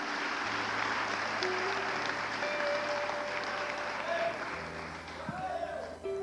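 A church congregation applauds steadily for about six seconds, a dense wash of clapping with low sustained tones and a voice faintly underneath.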